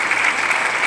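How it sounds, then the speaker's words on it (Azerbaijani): Bright, steady audience applause rewards contestants on a quiz show, a brief, loud, even burst of many hands clapping with no voices over it. "bu alqışlar da sizin üçündür"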